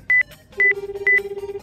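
Telephone dialing on an ordinary phone: three short paired beeps, each followed by a repeating pulsed tone, clear and close with no voices.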